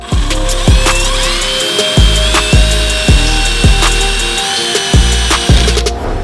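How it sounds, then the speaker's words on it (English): A power drill drives screws into a Karma body kit bumper for a car, loud and close, with repeated bursts of motor whine that each drop in pitch as a screw seats. "just drill those screws in there"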